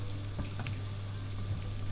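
Chopped mushrooms cooking down in a pan, a steady close sizzle with a few soft scrapes of stirring, over a low constant hum from a home kitchen, with no one speaking.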